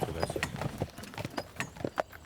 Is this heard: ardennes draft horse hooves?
yes